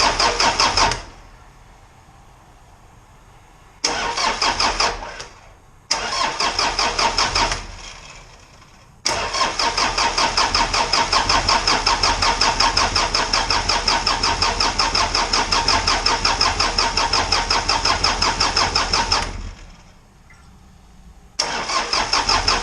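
An Isuzu 4BD2T diesel engine in a Spryte build cranks on an old starter in several loud, rhythmic bursts separated by pauses, then runs for a long stretch with a steady chugging clatter before cutting out and cranking again.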